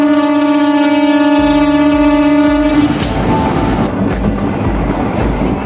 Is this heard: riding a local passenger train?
yes